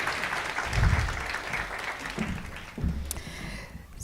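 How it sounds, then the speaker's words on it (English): An audience at a conference claps steadily as presenters leave the stage; the broad applause fills the room without interruption and swells slightly near the end. "A round of applause, please, as they make their way off stage."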